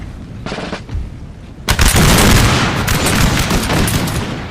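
French troops fire a musket volley in Napoleon: Total War, a sudden loud burst of crackling shots that swells into a long rolling rumble of sustained fire after a quieter lead-in.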